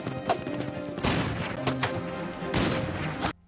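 Gunfire in a war film scene: several loud, sharp volleys burst out in quick succession, each leaving a dense, noisy roar behind, with no talking over them.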